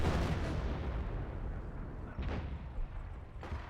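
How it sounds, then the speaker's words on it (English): Artillery shells landing in Company of Heroes 1: a heavy, rumbling barrage with low booms, a couple of sharper impacts near the end, moderately loud with no talk. "And we got some more artillery running on in."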